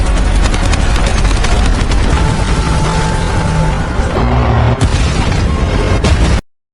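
Loud gunfire aimed at a cliff sets off a heavy explosion in an alien invasion action film scene, with dense booming blasts and rumbling debris filling the mix before cutting off abruptly.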